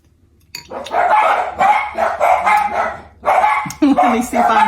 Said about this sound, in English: Think we've got the dogs calmed down and everything.